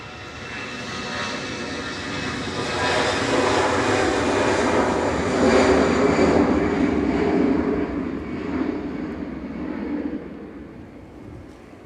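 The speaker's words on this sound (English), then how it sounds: "It's an A320 Classic, just lifting off." An Airbus A320 Classic jet lifts off on departure to Geneva, its engine roar swelling from a distance to a loud broad rumble and then fading slowly as it climbs away, heard alone without talk.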